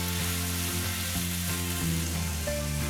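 Korean beef bulgogi with vegetables sizzling in a pan: an even, continuous close-up hiss of frying with no voices, over a faint steady hum.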